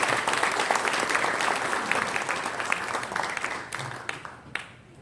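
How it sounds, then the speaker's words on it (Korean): Audience applause greets a speaker at a lecture for Presbyterian church elders, a dense, sustained clapping from a full room that thins out and fades toward the end. "큰 박수로 환영하시겠습니다."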